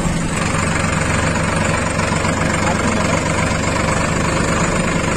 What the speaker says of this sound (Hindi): देख सकते हैं मैं ट्रैक्टर भी चला ले रहा हूँ